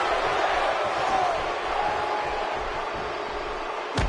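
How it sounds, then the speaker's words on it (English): A large arena crowd in Houston, Texas, at a wrestling event roars in a continuous, loud wash of cheering that fills the space, with a sharp thud near the end. "This Houston crowd is just like everything in Texas. Big and loud."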